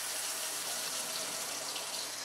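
Water runs steadily from a tap, a constant hissing splash with no pauses.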